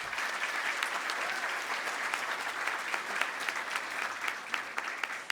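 Steady applause from an awards ceremony audience, many hands clapping together in a dense, even wash that holds at a consistent level throughout.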